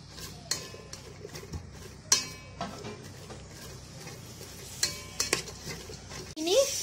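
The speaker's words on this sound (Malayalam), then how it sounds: "അടുത്തായിട്ട് നമുക്കിതിലേക്ക് നമ്മൾ കട്ട് ചെയ്ത് വെച്ച സവാള ഇട്ട് കൊടുക്കാം. എന്നിട്ട് നന്നായിട്ട് തന്നെ വഴറ്റിയെടുക്കാം." Sliced onions sauté in a pan for an egg and vermicelli biryani, with faint sizzling under sharp, scattered scrapes and clinks of a spoon stirring, quiet and close, with no speech.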